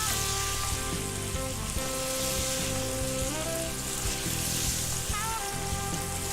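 Lamb meat fries on high heat for roghan josh, a loud, close, continuous sizzle with occasional stirring scrapes and a faint melodic tone underneath.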